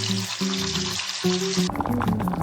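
Garlic sizzling in hot cooking oil for miniature buldak noodles, a steady bright crackle running throughout, with tonal chimes layered over it and the sizzle thinning near the end.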